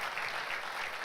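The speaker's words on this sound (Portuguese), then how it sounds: "Pode aplaudir e arrumar uma aguinha." Brief burst of congregation applause in a church during a pastors' gathering, a soft, steady wash of clapping heard at a distance without voices.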